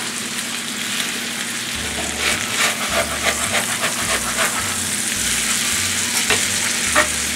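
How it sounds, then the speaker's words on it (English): Country-style potatoes and onions frying in a hot pan are stirred, a close, steady sizzle broken by repeated scraping and clattering of a spatula. "We're going to stir the taters again"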